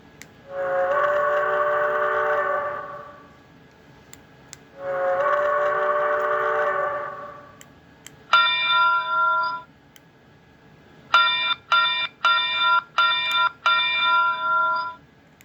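An old Four Sounds model train sound board plays electronic effects in turn: two long buzzing horn-like tones, then a short tone and a rapid series of beeping chimes, fairly close and clear.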